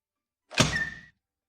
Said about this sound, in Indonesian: Aku akan membuka pintu.